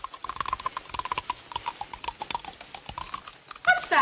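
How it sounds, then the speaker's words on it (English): Typewriter keys clacking in a 1942 comedy-horror film scene, a rapid irregular run of sharp dry clicks at moderate volume, ending in a brief brighter rattle, with no talking. "Like typewriter keys."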